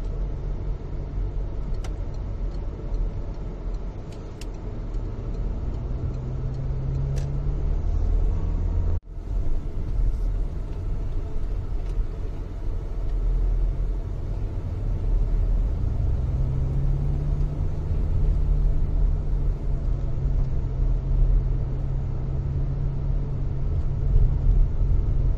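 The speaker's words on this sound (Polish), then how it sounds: "Ja tym właśnie prawym pasem jadę do drugiego zjazdu." A car drives steadily around a roundabout in Katowice in the right lane, a constant low engine and road rumble heard from inside the car, moderate in level with no talk.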